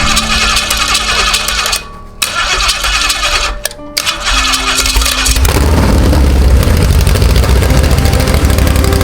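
A 1968 Holden V8 runs with no mufflers, a loud raw rumble that cuts out briefly and stutters before settling into a harsh, steady roar close by.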